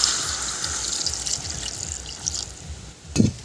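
Water runs into a pan of gandal leaf curry cooking in very little oil, a soft, steady trickle and splash that fades, followed by a short clatter near the end.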